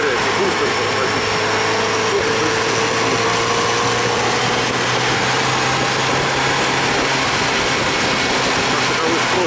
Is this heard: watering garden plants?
no